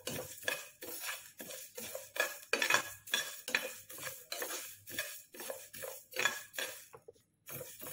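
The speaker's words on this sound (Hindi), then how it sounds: "इसको 1 या 2 मिनट के लिए स्लो गैस पे हम सेक लेंगे या भून लेंगे।" Whole spices including fenugreek seeds and black peppercorns are stirred and dry-roasted in a pan over low heat, with a steady run of metallic spoon scrapes and light clinks against the pan, close and clear, no talking.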